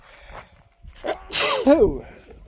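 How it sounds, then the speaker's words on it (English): A sharp sneeze with an audible breathy build-up just before it, close to the listener, followed by a brief vocal sound. "I'm going to sneeze."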